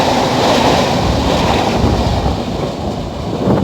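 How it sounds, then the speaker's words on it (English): A train runs along a nearby line on the Portuguese coastal Camino between Viana and Paço, a loud, continuous rushing rumble close by with no voices. "Oh, always good to be on a train line."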